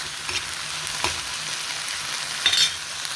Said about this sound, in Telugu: ఇవి ఆయిల్లో వేయించుకునేదాన్ని పెట్టేసుకున్నాం కదండి